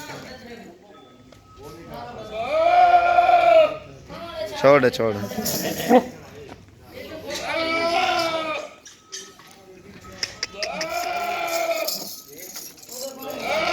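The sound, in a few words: Rajanpuri goat bleating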